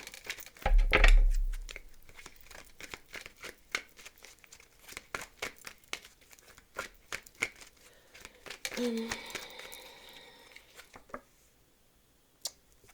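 Oracle cards are shuffled and handled, opening with a loud, dense rustling burst, then scattered flicks, taps and slides of card stock. A voice talks throughout.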